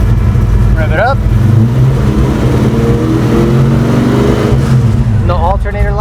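Carbureted Ford Fairmont engine revved up and down from idle, a loud, close low rumble rising and falling over several seconds, with short squeaky tones near the start and end.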